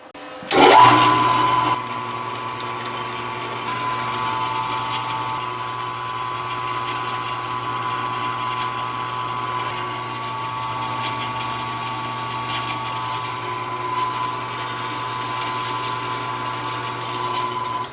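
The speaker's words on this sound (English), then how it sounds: "let's get over to the mill and put this hole in there right away" A milling machine drills a hole in a metal part, starting with a sharp rising whine that settles into a steady, close mechanical hum with a faint rhythmic chatter, running on for a long stretch with no talking.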